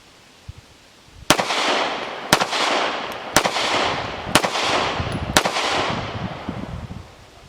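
A Centurion 14 Browning Hi-Power clone 9mm pistol fired five times at an even pace of about one shot per second, each report loud and sharp with a long echoing tail, close by.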